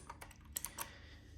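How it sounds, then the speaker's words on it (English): Typing on an RK100 96% mechanical keyboard, a quick run of crisp clacky keystrokes close up, with a few louder key hits in the middle of the burst and no talking. "As you can hear, a mechanical keyboard requires"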